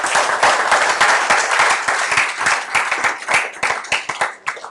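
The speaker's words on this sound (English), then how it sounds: "Please, a round of applause for the panel." A conference audience at a power-sector dialogue claps for a panel, loud, close applause with distinct individual hand claps that thin out and become sparser toward the end.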